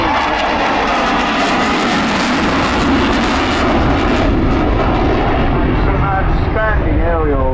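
Eurofighter Typhoon jet fighter displaying at the 2022 Southport airshow, a loud, continuous jet roar that swells and shifts as it passes, with a commentator talking over it.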